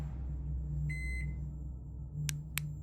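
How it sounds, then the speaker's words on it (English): Microwave beeping in the horror game Try To Sleep: a short electronic tone around the one-second mark, then two brief sharp beeps near the end, heard over a steady low room hum. "Somebody used my microwave"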